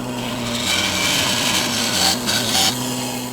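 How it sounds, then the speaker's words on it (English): A bandsaw cuts through a dust collection adapter in a woodworking shop, a steady loud whirring buzz with shifting rasp as the blade bites, running continuously throughout. "so I'm just going to cut this off at the bandsaw"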